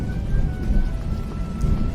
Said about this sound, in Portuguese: começaram a escutar um barulho de chuva, raios e trovões